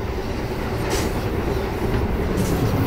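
A moving passenger train fills the space with a steady, loud rumble, continuous rail noise and a faint rhythmic clatter of wheels, heard from inside with no talk.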